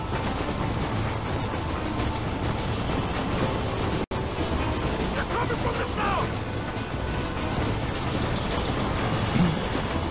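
Train running in the video game Red Dead Redemption: a loud, continuous rumble of rolling railcars with faint clickety-clack, under occasional game noise and a brief dropout midway.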